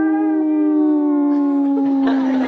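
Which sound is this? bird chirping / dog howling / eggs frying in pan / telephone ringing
dog howling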